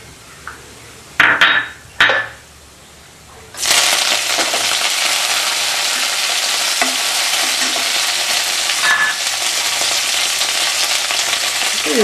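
Fennel seeds, mint and coriander leaves sautéing in hot oil for a coconut milk biryani, a loud steady sizzle that bursts in after a few clinks and stirs and continues unbroken.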